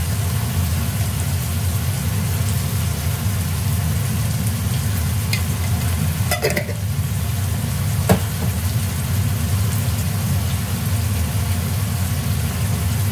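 Ginger, garlic, onion and cumin paste frying in a pan with chicken mince, giving a loud, steady sizzle that runs unbroken throughout, with no one talking.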